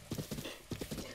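Horse hooves clip-clop in a steady, rhythmic gait in the video game The Legend of Zelda: Breath of the Wild, with two close, clear groups of hoofbeats and no talking.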